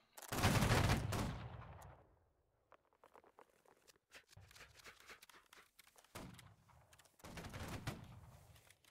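A musket line volley in Holdfast: Nations At War erupts as one loud, close, crackling blast that rolls off, followed by scattered distant musket shots and pops across the battlefield.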